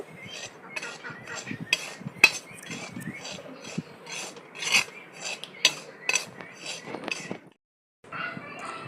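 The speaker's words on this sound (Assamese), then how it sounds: "আৰু এইখিনি এতিয়া মই উলট পালট কৰি ইফাল সিফাল কৰি লৰাই থাকিম।" Chhena cheese curds being stirred in a pan for homemade rasgulla, a utensil scraping and clinking against the metal in irregular, close-up strokes, pausing briefly near the end.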